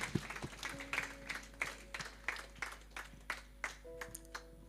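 A church congregation at a Sunday evening service clapping in a slow, steady rhythm, roughly one clap every third of a second, fairly faint and distant with a low hum underneath.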